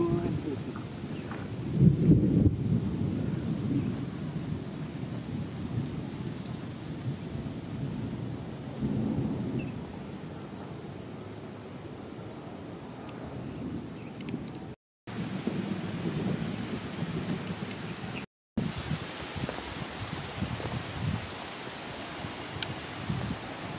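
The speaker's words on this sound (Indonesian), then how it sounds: "hujan deui banyak" Heavy rain pours steadily over a village with low rumbles of thunder, a dense continuous wash of noise with two brief dropouts, while people talk faintly beneath it.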